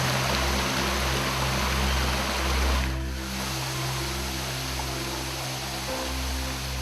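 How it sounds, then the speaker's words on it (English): Steady, broadband rushing of waterfalls and creeks in a Costa Rican jungle reserve, loud and continuous throughout with no voices. "The reserve has several waterfalls emptying into always refreshingly cool creeks."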